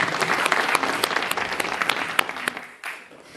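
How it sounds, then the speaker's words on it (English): An audience at a conference on net-zero agrifood systems applauds its lightning speakers, a brisk round of clapping from many hands that runs steadily and then thins out toward the end. "let's have another round of applause for our really wonderful lightning speakers."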